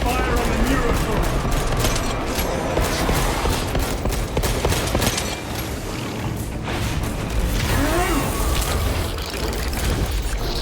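Sustained heavy gunfire and mechanical clatter in Warhammer 40,000: Space Marine II as squads concentrate fire on a neurothrope, dense and loud throughout with scattered booms and voices talking over the battle.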